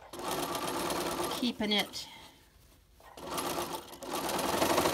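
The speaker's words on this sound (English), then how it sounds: "Okay, so we're just going to sew there" A sewing machine stitches a seam on a face mask with a close, dense whirring run that stops midway, then starts again. Someone speaks briefly during the pause.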